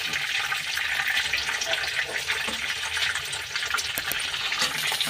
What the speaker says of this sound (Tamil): இப்போ பாருங்கள், நல்லா ஃப்ரை ஆகிடுச்சு.